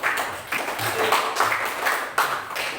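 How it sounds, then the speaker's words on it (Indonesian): Classroom applause after a biology group answers a question. Hands clap in a steady patter with a few louder claps standing out, and murmuring voices run underneath. "Terima kasih. Tepuk tangan"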